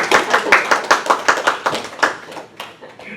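A church congregation claps during a Sunday worship service, a short burst of distinct hand claps in a loose, uneven rhythm that thins out toward the end, close and fairly loud with no talk over it.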